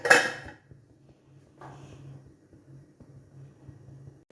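A lid goes onto a pot of boiling barley with one brief metallic clank at the start, followed by a faint, steady low hum.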